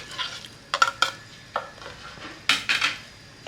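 Beef stew with onion, potato and tomato being stirred in a pot, a few scraping spoon strokes and clinks in short bursts against a faint background, no voices.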